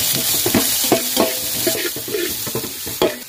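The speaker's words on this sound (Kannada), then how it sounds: "ಇದನ್ನು ಚೆನ್ನಾಗಿ ಹುರಿತೇನೆ" Onions and curry leaves sizzle steadily in hot oil in a pan, with stirring scrapes and crackles close up and no voices.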